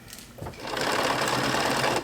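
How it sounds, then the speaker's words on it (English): Sewing machine stitching a straight line down a pinned flat sheet, starting up after a brief pause and then running as a steady, close, continuous whir to the end. "So here we are at my sewing machine, and I've got my flat sheet pinned, and I'm just going to sew a straight line right down where I've got these pins."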